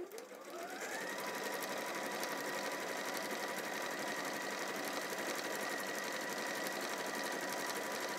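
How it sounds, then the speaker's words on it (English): A sewing machine stitches a flounce dress at speed, a steady continuous whirring drone that starts up quickly and runs without pause, close and loud with no talking. "Bit of speedy sewing."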